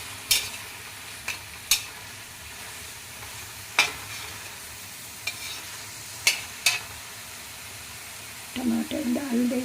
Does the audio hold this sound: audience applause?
no